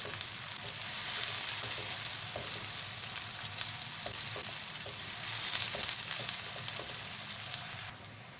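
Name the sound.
onion frying with cumin in a pan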